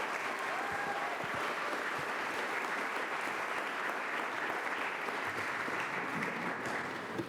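Sustained audience applause fills a large hall at a college honors convocation, a dense, steady wash of many hands clapping at moderate distance without pause.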